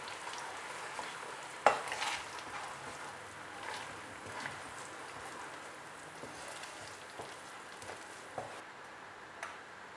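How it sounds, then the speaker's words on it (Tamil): Ground tomato for chutney sizzling in a pan while being stirred, a soft crackling fry with scattered scraping knocks of the spoon, one sharper clack early on. "அரைச்ச தக்காளி சேர்த்துக்கிறேன்."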